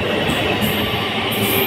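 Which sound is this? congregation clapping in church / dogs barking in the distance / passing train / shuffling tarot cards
passing train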